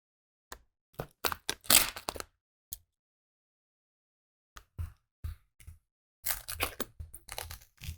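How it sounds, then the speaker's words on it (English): Knife cuts through knifeless tape and vinyl wrap film in burnt maroon on a car quarter panel near the window trim, heard as sharp close crackling, tearing bursts separated by silent pauses. "It's not a bad idea to now cut on your tape, and this will help you expose where the window trim is a little bit better."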